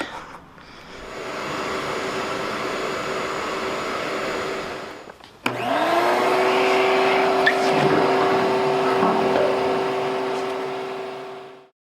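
A shop vacuum runs with a steady whine, cuts out briefly, then restarts with a sharp jump and a rising tone as it is switched from suction to blowing, staying loud and continuous to the end.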